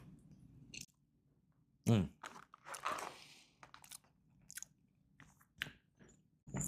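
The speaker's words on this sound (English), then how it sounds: "Let me get a piece of this buttermilk biscuit." Someone bites into and chews a buttermilk biscuit with a dense, slightly firm middle, giving close crunching and soft mouth sounds in irregular bursts with pauses between bites.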